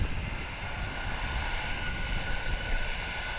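An MD-11 airliner's engines run during an engine test at DFW International Airport, a steady distant drone holding even throughout with no voices.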